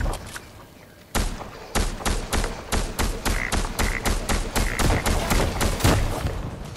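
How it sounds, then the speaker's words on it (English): Pulse rifle fire in a video game: after a short quiet stretch, a long run of sharp, evenly spaced gunshots cracks out close and loud, about twenty shots in quick succession. "Jeez, that's that pulse rifle."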